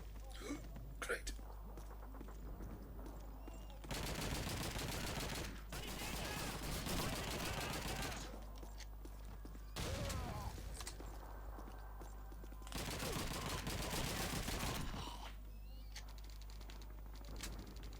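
Gunfire in Call of Duty 2 on Xbox 360: repeated bursts of rapid rifle and machine-gun shots in several loud stretches, separated by quieter gaps of battlefield ambience, with a voice speaking between volleys.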